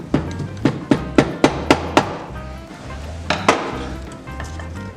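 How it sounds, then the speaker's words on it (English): Hammer tapping lightly through a rag on a Puch ZA50 moped transmission part during disassembly: a quick run of about seven dull, close knocks, then a pause and two more taps, alone without talk. "you can lightly tap it with a rag and a hammer"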